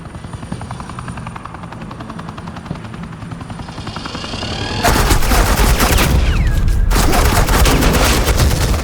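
Suppressing gunfire in the Batman Telltale Series, loud rapid automatic bursts kicking in midway over the steady thrum of a hovering helicopter.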